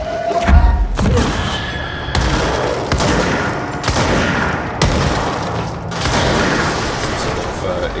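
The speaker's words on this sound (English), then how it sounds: "Some sort of exploding melee enemy." Thuds, booms and bursts of gunfire-like blasts from an exploding melee enemy in the video game Control, dense combat noise repeating throughout under a speaking player's voice.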